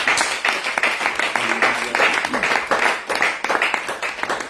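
A church congregation applauding and acclaiming the Lord, with steady rhythmic clapping and cheering voices filling the room continuously.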